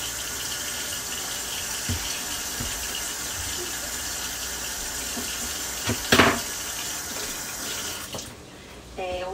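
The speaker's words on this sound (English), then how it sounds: "We're going to rinse the rice" Tap water runs steadily into a sink to rinse rice, a continuous close splashing rush with a few knocks, cutting off near the end.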